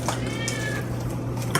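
A cat gives a short, faint meow over a steady background hum, with a faint clink of dishes nearby.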